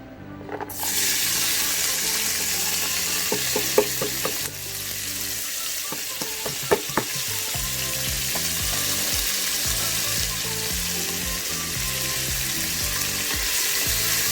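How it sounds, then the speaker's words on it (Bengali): Chopped onion hits hot oil already tempered with whole garam masala, cumin and black peppercorns, bursting into a loud, steady, close sizzle that carries throughout, with a few clinks of stirring and no talking. "আমি তেলের মধ্যে গোটা গরম মশলা, জিরে, গোলমরিচ সব ফোড়ন দিয়ে দিয়েছি, দিয়ে এখন পেঁয়াজ কুচিটা দিয়ে দিচ্ছি"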